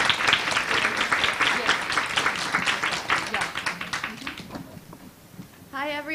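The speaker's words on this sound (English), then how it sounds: "a big round of applause" An audience at an information session on careers in international organizations applauds a speaker coming to the front, a full, steady clatter that thins and fades before a voice begins.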